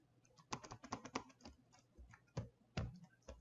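Computer keyboard keys clatter in quick, irregular bursts of typing with short pauses, close and fairly quiet.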